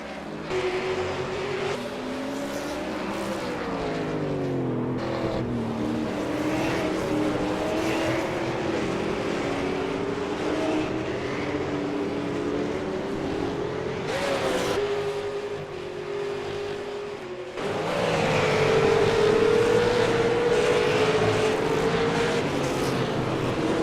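V8 Supercars racing cars in a racing game at Monza, engines droning steadily in the distance with pitch shifts as cars pass, swelling louder near the end as another car goes by.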